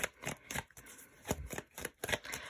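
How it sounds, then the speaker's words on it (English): Tarot cards shuffled and drawn in quick, papery riffling bursts, each one followed by a short pause, close up and soft with no voices. "let's go ahead and get the rest of the cards out"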